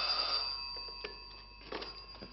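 An old landline telephone bell rings in repeated electric trills at moderate volume in a quiet room, with no talking.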